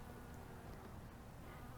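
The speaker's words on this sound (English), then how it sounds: "We've got a lot of different bees hanging out on here," Bees buzzing around flowering plants in a dry, water-wise garden in June, a steady faint hum of several insects with no talking.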